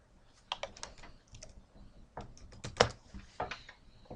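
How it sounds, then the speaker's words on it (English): Quick bursts of typing on a computer keyboard, close and fairly quiet, with uneven clusters of key clicks and a few sharper taps. "Let's just type it in."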